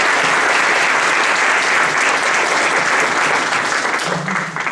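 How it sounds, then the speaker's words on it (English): An audience at an entrepreneurship panel session gives a big round of applause, loud, dense and continuous, tapering slightly at the very end. "So if you guys can just give a big round of applause to Naren."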